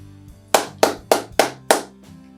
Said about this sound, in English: Just clap the syllables of your name without saying it.